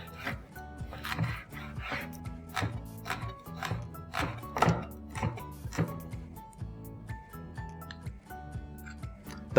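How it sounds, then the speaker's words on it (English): A knife chops a red chilli on a cutting board in a home kitchen, giving a steady run of quiet, crisp taps at a regular rhythm that carries on for about ten seconds. "let me start chopping a red chilli."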